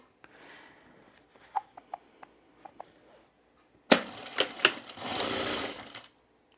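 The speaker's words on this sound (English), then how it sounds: "we're just gonna sew it together here" A sewing machine stitches a pullover camp shirt with a popover placket, first with scattered clicks and taps, then a loud, steady run of rapid stitching for about two seconds.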